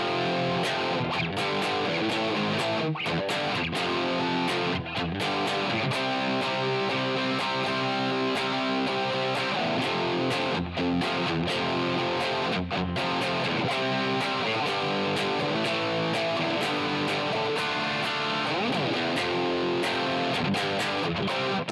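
Distorted electric guitar plays the pre-chorus riff of a song, thick, saturated and continuous at steady volume for over twenty seconds, with no talking over it.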